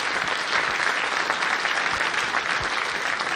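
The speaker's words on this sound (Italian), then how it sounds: "Grande applauso." An audience at a live concert gives steady, dense applause, sustained clapping from a large crowd throughout with no talk.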